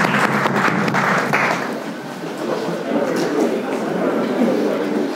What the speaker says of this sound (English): Clap for yourselves and sit down.